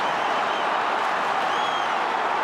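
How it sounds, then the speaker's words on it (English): A big football crowd roars steadily at an AFL match between Collingwood and the Brisbane Lions, a dense unbroken wash of cheering heard from within the stadium, with a faint whistle rising above it. "Oh, listen to that crowd."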